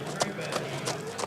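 Horse hooves clip-clop in a few irregular beats at an equestrian event at an agricultural show, faint under a broad noisy background.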